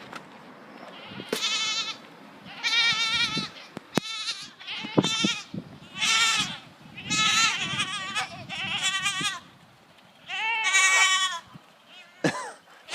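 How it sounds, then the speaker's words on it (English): Several goats bleating repeatedly while being fed leftover melon scraps, loud nearby calls in bursts with short gaps and some chewing and shuffling between them. "Let's give the rest of these scraps to these goats."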